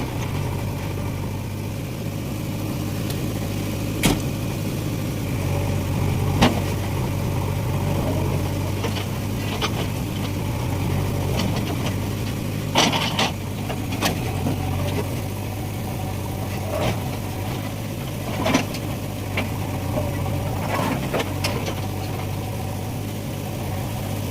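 A JCB excavator's heavy diesel engine drones steadily, with sharp metallic knocks and clanks as it strikes and tries to break rock, scattered throughout.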